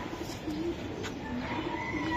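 A white racer pigeon coos softly in short low phrases over faint background murmur, close by but quiet, with no clear talking.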